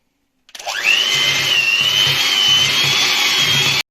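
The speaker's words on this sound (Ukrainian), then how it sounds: "Збиваємо крем до однорідної маси." An electric mixer whipping cream with condensed milk whirs up to speed and runs steadily at a loud, close, high whine, with a faint rhythmic knocking underneath.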